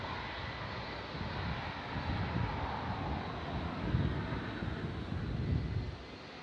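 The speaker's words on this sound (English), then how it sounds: "A base of a plane, 757. You can hear it heading over to Newark, New York." A Boeing 757 jet roars overhead at San Francisco International Airport, a steady broad engine rumble swelling slightly at moments, with wind buffeting the microphone and no talk.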